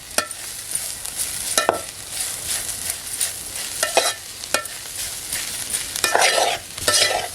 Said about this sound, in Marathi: भाजी चार पाच मिनटं परतून घेऊया त्या झाकण ठेवून वापरायची गरज नाही